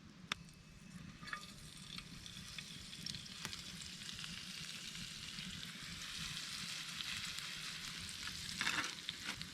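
Food sizzles and fries steadily on a tripod grill hung over a campfire outdoors, a soft continuous crackle with occasional sharp pops, fairly quiet and without voices.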